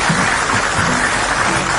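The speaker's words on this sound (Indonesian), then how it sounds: "Jadi tepuk tangan dong buat dia." Continuous studio audience applause on a TV talk show, a dense, even wash of clapping that stays loud and steady throughout, with no voices standing out.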